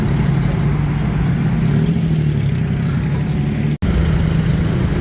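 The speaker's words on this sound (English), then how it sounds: "These motorbikes come pretty darn close." Busy evening street traffic on Sukhumvit in Bangkok, with motorbikes and tuk-tuks passing close: a steady low engine rumble and idling drone continues throughout, with no talking.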